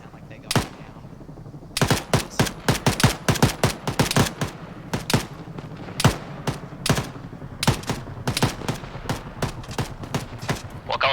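Rapid bursts of video-game gunfire from a military-style mission, sharp repeated shots in quick volleys with short pauses, loud and close, with a voice talking briefly in between.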